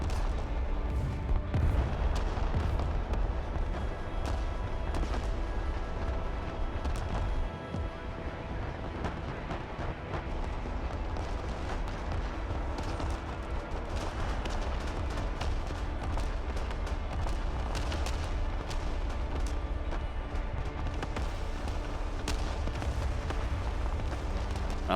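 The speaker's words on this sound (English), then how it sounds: "That is a lot of artillery." Heavy artillery fire in the Broken Arrow strategy game, a continuous barrage of booms and distant explosions rumbling steadily and densely throughout, loud and unbroken.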